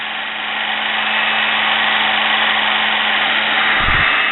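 Sewing machine motor being repaired, spinning with sandpaper held to the commutator, giving a steady close high-pitched whine with a raspy scraping edge and a brief low knock near the end.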